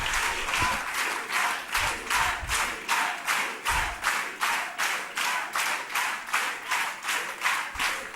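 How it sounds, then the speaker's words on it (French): A public-meeting audience claps steadily for Julien Pérez, dense applause with a pulsing rhythm that holds throughout at moderate level. "je vous demande maintenant d'applaudir Julien Pérez"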